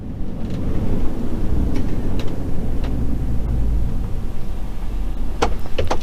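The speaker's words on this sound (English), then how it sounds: "And then just hit the brakes kind of firm, not hard, just kind of firm." A car brakes firmly after backing up about twenty feet during front brake pad bedding; a steady low vehicle rumble runs throughout with a few faint short squeaks or clicks, and no talking.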